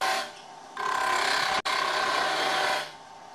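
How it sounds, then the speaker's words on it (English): A wood lathe fitted with a Robert Sorby wobble chuck turns steadily while a tool cuts the spinning workpiece, producing a close, continuous whirring rasp with a brief dropout midway. "start the lathe and continue with the same cut."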